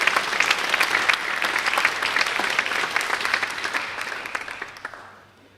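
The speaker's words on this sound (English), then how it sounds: "Let's have a round of applause for our volleyball seniors" At an athletic awards ceremony, an audience gives a dense, sustained round of applause for volleyball seniors, the clapping holding steady before fading out at the end.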